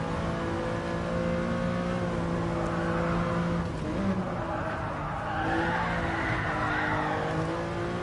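A Mercedes-AMG Black Series car with a big gated shifter oversteers around the Nürburgring, its engine droning loud and close with steady harmonic tones, shifting in pitch as tires scrub and squeal through the corner.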